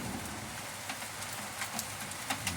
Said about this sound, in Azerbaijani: Yağışın səsi yəqin gəlir.